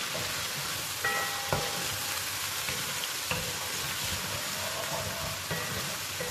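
Chopped tomato and whole green chilies frying in a pan, a steady close sizzle with occasional clinks and scrapes of a stirring spoon.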